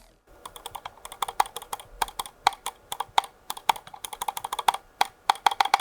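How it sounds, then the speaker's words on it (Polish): Rapid, crisp clicks from the switches of a Dark Project Nexus Ultra gaming mouse, pressed repeatedly in an uneven rhythm, close and clear with a slightly resonant, hollow ring. "Tutaj niestety mamy taki dość nieprzyjemny podźwięk w tych e, switchach, w tych klikach."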